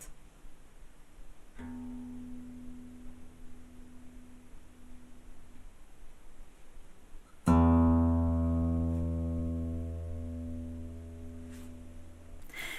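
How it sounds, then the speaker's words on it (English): A single sustained note on one guitar rings out quietly and fades, then the same note is plucked on a second guitar, much louder and fuller, decaying slowly. "I'm going to play you the same note on both guitars"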